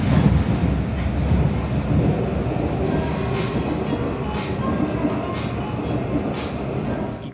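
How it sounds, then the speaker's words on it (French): A Seoul subway car rolls along inside the rapid-transit line with a steady low rumble and a faint metallic squeal. A few clicks mark the track joints, and the sound stays constant throughout with no talking. "Le métro à l'intérieur des rames est hyper calme."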